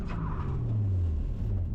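A car spinning through a 360 drift gives a brief, loud burst of engine roar and tyre noise, with the pitch sweeping downward as it comes around.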